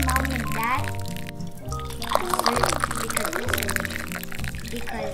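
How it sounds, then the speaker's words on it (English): Vinegar poured for a bouncy egg experiment gives a gurgling, trickling splash under someone talking throughout, close and fairly loud. "We put the vinegar."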